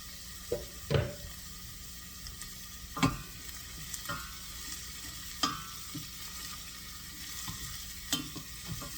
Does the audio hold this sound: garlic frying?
yes